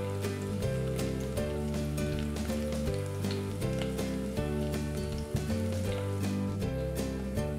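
Garlic fries in oil in a pan, a steady crackling sizzle that runs continuously for several seconds, close and moderately loud, with no talking.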